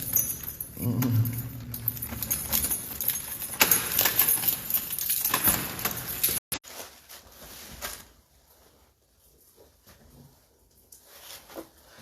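Large bunch of keys jangling close up in bursts of bright metallic rattling during the first half, then fading to quieter handling noise and near silence.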